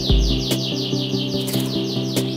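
Yorkshire canaries sing loudly in a box, close up, producing rapid repeated trills and bright warbling phrases with no talk.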